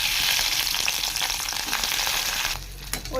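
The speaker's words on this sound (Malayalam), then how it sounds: "ചട്ടി വെച്ച് വെളിച്ചെണ്ണ ഒഴിച്ചിടും കേട്ടോ അതിനകത്തേക്ക് വെണ്ടക്ക ഇട്ട് കൊടുക്കാം" Okra (vendakka) frying in coconut oil in a pan, a loud, close, continuous hiss of sizzling oil that eases near the end amid a few scraping stirs.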